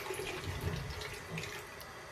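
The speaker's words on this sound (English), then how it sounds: "Rinse off." Water runs steadily from a tap into a bathroom sink for rinsing off after a shave, a close, even rushing splash with no talk.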